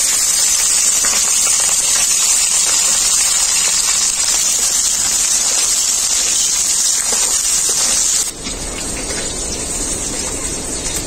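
Capsicum chillies frying in hot mustard oil with nigella seeds give a loud, steady, close sizzling hiss that runs throughout and drops slightly in tone near the end.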